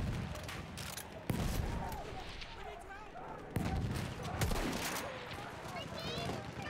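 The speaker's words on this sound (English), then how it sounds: "I'm looking at a machine gun." Machine gun fire on a Battlefield 1 battlefield, bursts of shots and sharp cracks mixed with mechanical clanks and distant explosions, voices talking over the chaotic combat noise.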